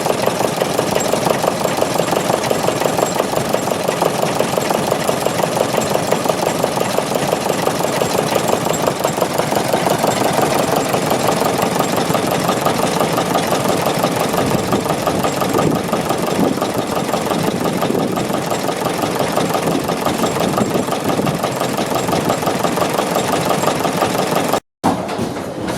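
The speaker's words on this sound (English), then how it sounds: "Deutz MKH260 is a large stationary diesel engine designed for industrial and" A large Deutz MKH260 stationary diesel engine for industrial power generation runs steadily after a cold start, a loud, dense continuous drone with a fine rapid knocking texture throughout and a brief dropout near the end.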